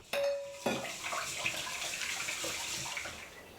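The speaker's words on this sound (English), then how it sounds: "Put the rice back into the bowl and wash again." Japanese rice being washed in a bowl of cold water, a steady close splashing and swishing of water with a brief bright clink at the start, continuing alone without talk.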